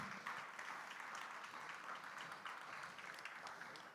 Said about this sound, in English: Let's have a round of applause to Steve.